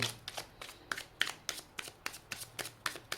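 Tarot cards being shuffled by hand, a steady run of crisp riffling bursts roughly every quarter second, close and fairly quiet with no talk.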